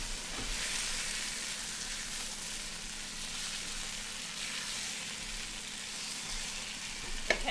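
Minced garlic fries in a pan with a steady, close sizzle that crackles continuously, plus an occasional light scrape of stirring and no talk.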